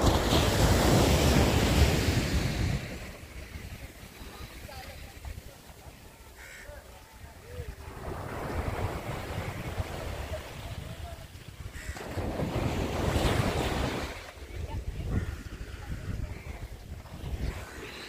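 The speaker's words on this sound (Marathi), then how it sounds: "बघा किती मोठ्या लाटा येतात, किती मोठ्या लाटा येतात माझ्या मागे." Big ocean waves break and surge on Guhagar beach on the Konkan coast, rising and falling in repeated swells under gusty wind buffeting the microphone, with a voice talking between crashes.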